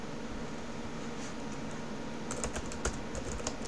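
Keys clatter on a computer keyboard as a command is typed, quiet soft taps at first turning into a quick, close burst of keystrokes over a steady background hiss.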